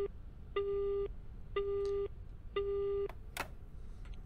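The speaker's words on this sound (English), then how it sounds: "Here's the phone. Can Luna use the phone?" Telephone busy signal from the RPG Maker horror game Luna: three evenly spaced, steady electronic tones, each about half a second, followed by brief clicks, clear against a faint background hiss.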